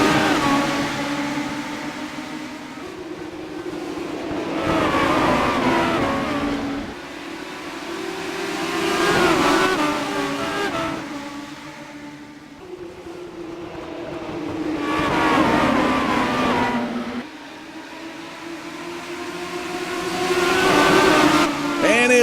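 Legends race cars roar around the oval at Irwindale Speedway, engines swelling and fading in repeated waves as the pack passes, with a commentator talking over the racing.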